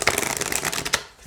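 Oracle deck being shuffled, a quick close riffle of cards gliding against each other for about a second, crisp and fairly quiet, then tailing off.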